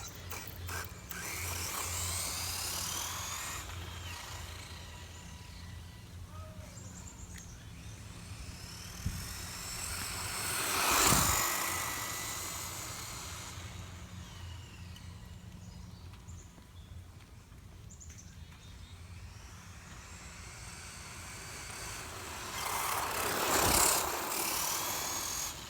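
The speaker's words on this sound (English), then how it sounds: "this is the running video of my Arrma Fury BLX" Arrma Fury BLX RC car on a 3S LiPo driving at speed, a distant steady motor whine that twice swells into loud close passes before fading, with a low idling drone underneath.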